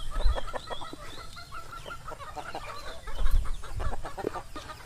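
Free-range geese and ducks honk and call repeatedly in overlapping clucking bursts nearby, with a few louder low thumps mixed in.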